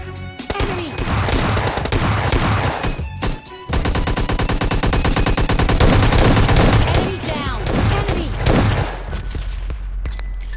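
Gunfire in the PUBG video game, dense and loud: rapid automatic bursts and repeated shots fill nearly the whole stretch, pausing briefly once before resuming.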